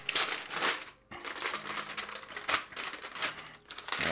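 Protective film is peeled off an Nvidia GeForce RTX 2080 Ti Founders Edition graphics card, making close, loud crinkling and crackling with a brief pause before the plastic rustling resumes.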